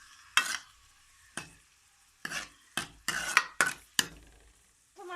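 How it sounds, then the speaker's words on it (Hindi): Onions in half a cup of oil frying in a kadhai for chana dal, heard as a steady soft sizzle under repeated sharp scrapes and clinks of a spoon stirring against the pan, close and without talk. "प्याज को अच्छी तरह से फ्राई करेंगे"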